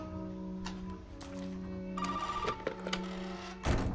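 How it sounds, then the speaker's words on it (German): Telephone ringing in the horror game Resident Evil 7: a steady electronic ring with repeating tonal bursts, fairly close and clear, with a few soft clicks and thumps near the end and no talking. "War ja klar, wieder das Telefon."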